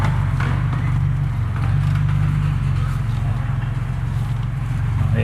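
A Ford Ranger Raptor with a 3-liter twin-turbo engine and 10-speed automatic drives an off-road course, giving a steady, loud low engine drone and rumble with no talk over it.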